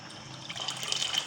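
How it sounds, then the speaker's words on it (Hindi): A little water is poured into a pot of cumin rice as it cooks, a faint short trickle that turns into a brighter splashing stream toward the end, heard alone. "पानी थोड़ा सा कम लग रहा है, पानी डाल दूँ थोड़ा सा"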